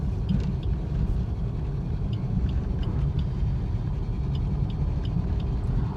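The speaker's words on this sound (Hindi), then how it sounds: "ये गाड़ी का मूवमेंट स्टार्ट हो गया।" A car moving off slowly in second gear during a beginner driving lesson, its engine a steady low rumble that stays even and close throughout, with no talking.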